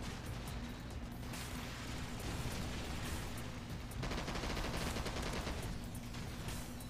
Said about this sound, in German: Ich spray mit der Waffe einfach nur noch.